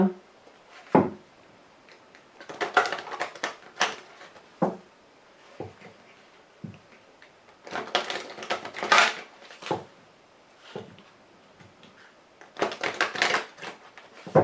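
Lenormand fortune-telling cards being shuffled by hand, giving repeated crisp riffling bursts with quiet gaps between them, close and clear, and no talking.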